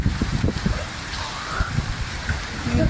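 Rain falls steadily during a storm in Saudi Arabia, a dense, even hiss of drops on surfaces with a few faint voices murmuring underneath.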